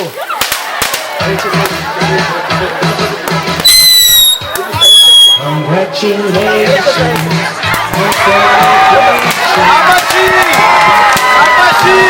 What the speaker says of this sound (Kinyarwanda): ibishashi mugiye kubona hano biturika ariko kugira umuntu wikanga, ni ibyishimo by'urukundo